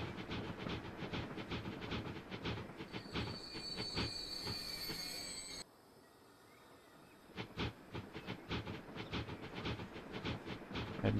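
A train rolls along rails in a city-building game set in Manchester, with dense clattering wheel beats and a squealing tone. There is a brief quiet gap partway through before the steady rattle resumes.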